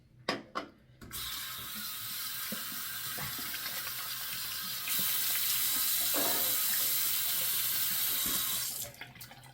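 Lukewarm tap water for shaving running into a sink after a few handling clicks, a steady close hiss that grows louder midway and then cuts off with a clunk.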